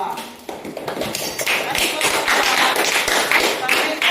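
A classroom of students claps for a presenting group, a burst of many hands rising quickly into steady overlapping applause that continues loud and close, with some voices mixed in.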